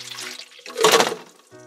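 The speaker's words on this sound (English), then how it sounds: "Let's pour it out." Water poured out of a yellow toy tube, a short splashing gush rising and fading within about a second, close by, framed by faint background tones.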